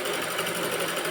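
An electric sewing machine stitches the neck of a net-fabric kurti, giving a steady, close, continuous whir of rapid needle strokes with no pauses throughout.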